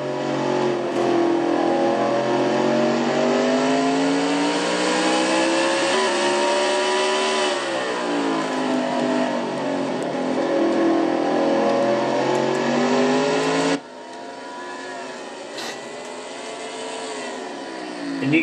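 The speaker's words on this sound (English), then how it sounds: "And you can hear the whine of the engine as they go off in the third turn now." Stock race car engines whine around a tight paperclip-shaped track, a loud sustained high-pitched drone rising and falling in pitch as the cars pass through the turns, dropping to a quieter, more distant roar near the end.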